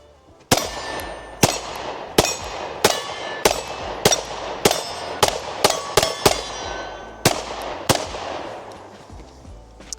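Shots from a Shield X pistol ring out in a rapid string of about a dozen sharp, loud cracks with metallic ring, fired at a steady, slightly uneven pace, close by, with no talking.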